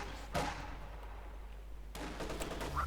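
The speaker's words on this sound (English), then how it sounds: "Lieutenant here suffering an awful lot of shots there from the German infantry" Distant small-arms fire from German infantry in the strategy game Company of Heroes 2, a few scattered cracking shots and muffled bursts over a low battlefield rumble.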